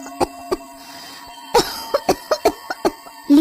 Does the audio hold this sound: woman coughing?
yes